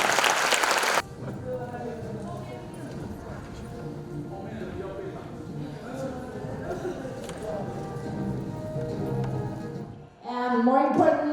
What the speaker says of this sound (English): please give a big round of applause to all the student volunteers